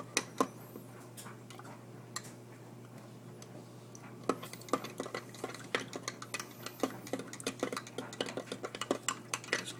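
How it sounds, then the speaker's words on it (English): Yeast stirred into a batch of homemade kiwi strawberry wine: a utensil clinks and scrapes quickly against the container in rapid, irregular ticks, close up with no talk. "Just keep stirring crap out of it until it dissolves"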